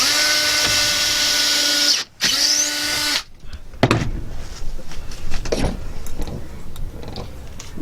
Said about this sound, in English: Way easier having 2 drills.